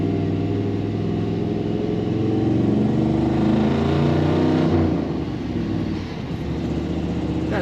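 A 1987 GMC Sierra K20 4x4 engine roars at high revs while its back tires spin, a loud, sustained, throaty drone that eases off near the end, with no talking.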